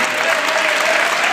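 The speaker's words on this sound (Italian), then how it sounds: "Sì, un applauso" Steady, dense applause from an audience follows a tango performance, a continuous wash of clapping heard alone and close.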